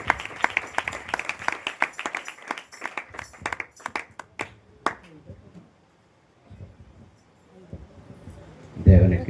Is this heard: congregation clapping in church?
yes